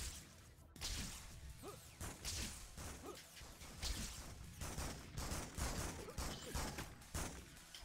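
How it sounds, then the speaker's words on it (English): Rapid gunfire crackles in the Spider-Man 2 video game, a dense run of sharp shots mixed with whooshing and smashing action noises, fairly faint overall. "I just heard gunshots!"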